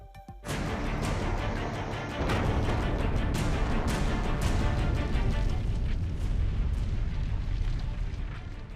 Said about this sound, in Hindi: 1 जून को रूसी एयरबेस पर कतार में लगे विमानों में विस्फोट हो रहा था।